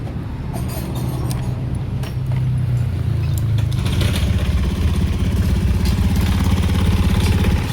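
A Honda Beat or Click motorcycle engine turns over and catches, then settles into a steady, close, rattly idle that continues without a break.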